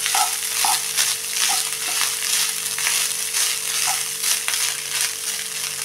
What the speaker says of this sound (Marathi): आता सगळा ह्यामध्ये टाकून घेते। आता थोडा वेळ परतून घेऊया।